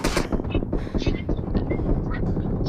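Rapid gunfire crackles in a mobile shooter game's team deathmatch, bursts of shots in quick succession with people talking over them.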